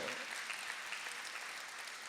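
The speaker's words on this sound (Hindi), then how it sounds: "आप तालियां बजा बजा के थक चुके हैं" A Hindi poetry recital audience claps, a brief, faint patter of steady applause heard at a distance.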